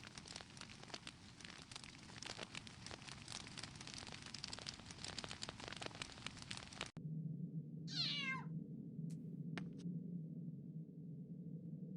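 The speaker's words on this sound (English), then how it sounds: "I just heard Filch's cat meowing." Filch's cat meows once in the Harry Potter and the Philosopher's Stone video game, a single distinct mew after a crackling, rain-like ambience cuts to a quieter low drone.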